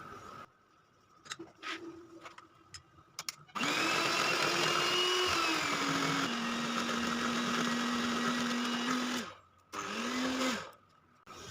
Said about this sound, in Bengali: মিক্সচারটাকে আমি বিট করে নেব